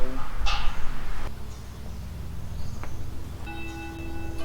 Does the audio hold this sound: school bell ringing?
yes